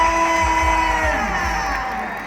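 A crowd cheers, whoops and shouts at a Thai fan game and prize-giving event. The loud, steady roar of voices carries over a ringing tonal background, with no clear talking.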